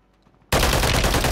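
Gunfire in a Call of Duty Rebirth Resurgence solos match: after a quiet moment, a sudden loud burst of automatic fire starts and keeps going to the end, close and intense.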